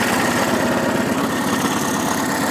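A 1.5 tonne cricket roller's engine idles steadily on a demonstration green, a continuous close, loud mechanical drone with a low rhythmic throb and no talking.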